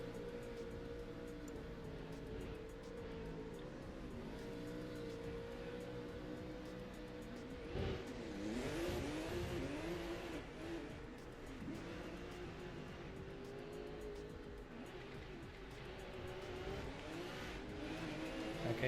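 Drift cars run a practice lap at a motorsport track, their engines droning and revving steadily at a distance, with a louder pass midway and no voices.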